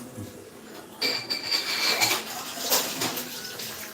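Dishes clink and scrape under running water, a continuous busy clatter of washing up close by, with faint voices in the background.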